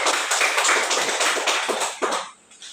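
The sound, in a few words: students clapping hands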